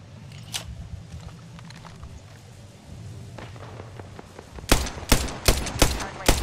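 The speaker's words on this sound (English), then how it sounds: "They're shooting at all my decoys." Rapid bursts of gunfire in Apex Legends crack loudly in a tight cluster toward the end, after a quieter stretch of low game ambience with a few scattered distant shots.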